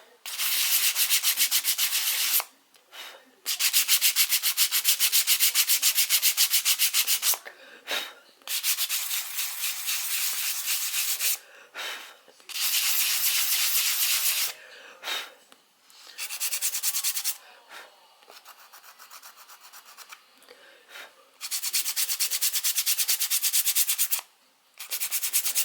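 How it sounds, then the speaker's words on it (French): A sanding brush smooths self-hardening clay on a model Provence house, giving a steady close scratchy rubbing in long strokes of several seconds, separated by short pauses. "on prend ma brosse à poncer et je fignole un max"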